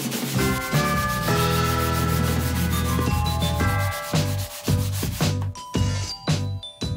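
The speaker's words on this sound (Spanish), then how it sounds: "También vamos a lijar todo el marco de madera" Close, continuous hand sanding on the wooden frame of an old chalkboard, heard alone. Rhythmic back-and-forth strokes with a slightly squeaky, tonal rasp grow choppier toward the end.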